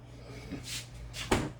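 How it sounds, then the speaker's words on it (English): A kitchen fridge door opens, with a soft hiss of air and seal release followed by a short, sharp clunk as it swings open, set over a steady low appliance hum. "Fridge door just opened."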